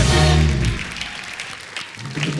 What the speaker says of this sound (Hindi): तो एक बार हाउसफुल 4 की पूरी स्टार कास्ट के लिए जोरदार तालियां